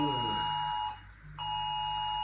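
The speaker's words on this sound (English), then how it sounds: "that air alarm? No, that's an actual alarm." Loud steady electronic alarm tone with harmonics in Kharkiv, Ukraine, briefly dropping out and then resuming, close and continuous.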